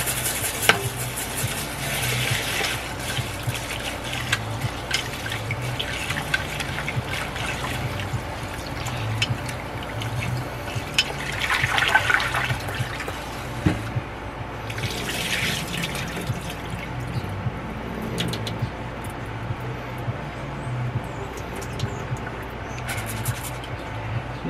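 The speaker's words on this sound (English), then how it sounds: "now to rinse the rice." Running tap water pours into a pot as rice is rinsed and stirred, a steady splashing trickle with swirling grains, fairly close and continuous with no talk.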